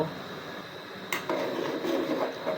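Spoon stirring rice into boiling milk in a cooking pot for rice pudding, with a few metallic clinks and scrapes against the pot and soft bubbling, close and moderately quiet.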